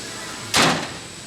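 A Funco aftermarket door on a Can-Am Maverick X3 UTV swings shut with a single loud, sharp slam that rings briefly before fading, close to the listener.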